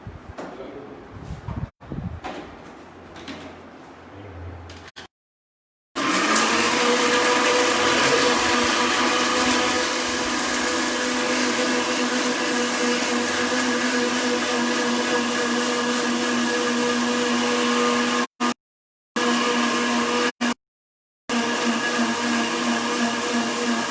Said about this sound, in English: Just to blend this masala